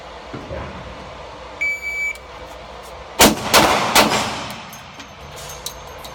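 Brand new handgun fired at close-range target practice: a timer beep, then a quick string of about four or five sharp, loud gunshots with ringing tails, outdoors and near.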